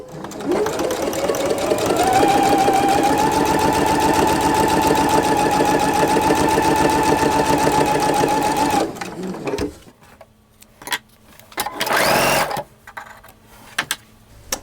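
A sewing machine runs a quarter-inch seam on a flying geese quilt block, a loud continuous whir lasting about nine seconds, followed by a few short bursts of handling noise.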